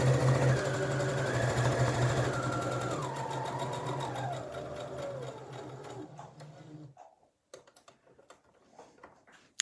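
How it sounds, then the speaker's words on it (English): A sewing machine stitches a welt zipper seam in a bag lining, running steadily and loudly for about seven seconds before halting, then a few short stitching bursts follow. "I'm just going to do 3 stitches to start with and then 3 into reverse."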